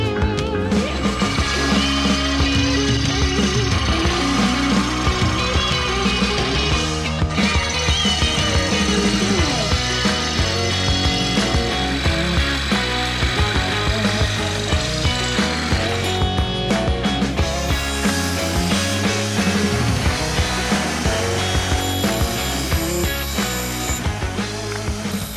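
A power tool cuts through a 3/16-inch steel plate being shaped into a diff lock and steering bracket for a truck. It makes a loud, steady, harsh rasping whine that runs without pause for the whole stretch.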